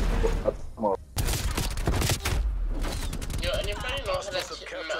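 Fully automatic weapon fire in the video game Black Ops Cold War crackles in rapid bursts with mechanical clatter, mixed under a person talking throughout.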